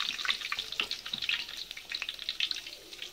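Chicken spring rolls frying in hot oil, a continuous bright crackling sizzle with scattered pops, close and fairly quiet, with no voices.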